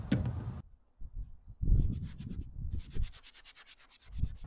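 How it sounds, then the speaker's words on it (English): A brush scrubs the seam between leather and canvas on a dirty shoe, giving close, quiet rasping strokes in short irregular bursts with brief pauses between them. "I'm kind of angling this brush to get into the seam between the leather and the canvas."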